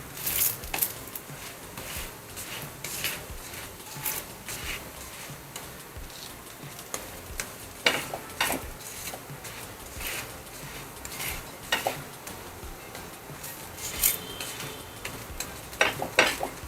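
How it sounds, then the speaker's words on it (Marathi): Coriander paratha roasting crisp on both sides in a pan, a soft sizzle under repeated scraping and tapping of a spatula against the pan, irregular and fairly close. "असं दोन्ही बाजूनी छान खमंग भाजून घ्यायचा"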